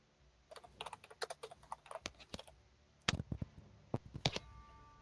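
Irregular bursts of computer keyboard typing, clicky keystrokes in quick flurries with short pauses, fairly quiet and close, with no voices.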